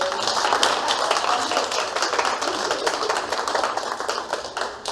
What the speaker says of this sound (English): Can we first have a round of applause for our wonderful panelists?